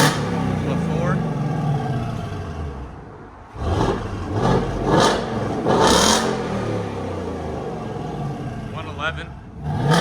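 A 2024 Ford Mustang GT with a 5.0L Coyote V8, Roush H-pipe and straight pipes revs in several swelling bursts, a deep throaty roar rising and falling, with a voice talking nearby.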